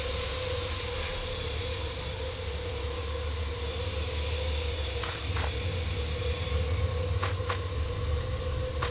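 A steady, quiet hiss of steam with a low rumble beneath from the idling Orient Express steam train, with a few faint clanks near the end.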